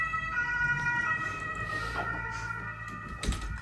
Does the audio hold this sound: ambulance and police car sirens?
yes